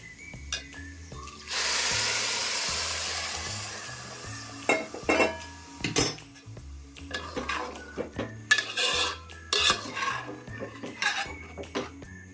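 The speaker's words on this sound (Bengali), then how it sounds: "এই যে উনানে গরম জল ফুটাচ্ছি, এই গরম জলটা এবার দিয়ে দেবো।" Hot water poured from the stove into a pot of rice for Basanti pulao, a loud steady rushing pour for a couple of seconds, followed by scattered clinks and clatters of a metal pot and utensils.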